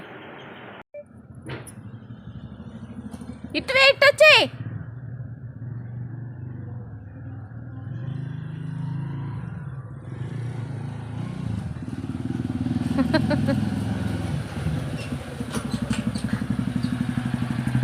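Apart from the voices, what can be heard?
motorbike arriving and idling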